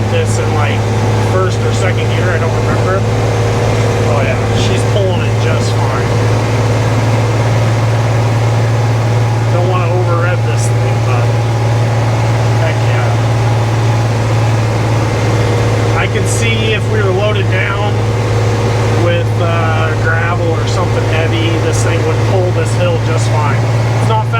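A 1957 REO dump truck's engine labors steadily as the truck creeps slowly up a steep hill, a loud continuous low drone filling the cab while a person talks over it.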